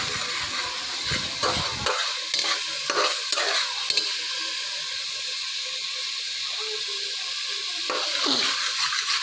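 Cumin and salt are stirred in a hot pan: brisk scraping strokes at first, then a softer sizzling hiss, with another burst of stirring near the end.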